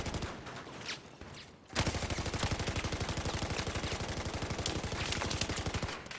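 An MG4 light machine gun in Battlefield 4 fires a long, steady, rapid stream of shots at even rhythm, loud and close, after a brief softer burst at the start.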